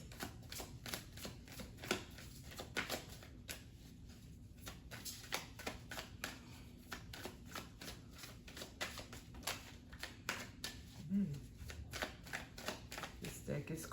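A deck of life purpose cards being shuffled repeatedly, with soft rapid riffling and card flicks in an even rhythm, quiet and close throughout.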